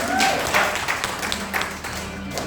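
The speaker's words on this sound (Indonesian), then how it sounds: "Oke, sorak-sorak kita Tuhan Yesus" A church congregation cheering and clapping together, a dense burst of applause that starts loud and gradually thins out over a couple of seconds.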